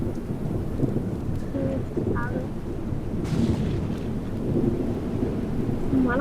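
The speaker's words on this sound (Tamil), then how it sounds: "மழை பெய்யுது, என்ன பண்றது?" Thunder rumbles and steady rain fill a stormy scene in the train video game Death Rails, a continuous dense wash with occasional brief tonal game blips, heard alone at moderate level.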